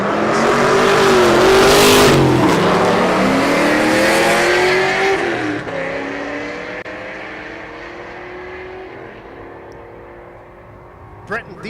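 A Corvette and a Challenger drag racing at the SRCA Dragstrip in Great Bend during Rocky Mountain Race Week: loud engines roar and rev past, then the sound fades into the distance, with a brief sharp noise near the end.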